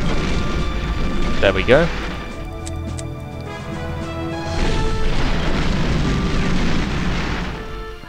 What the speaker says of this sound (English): And continue bombardment of the artillery.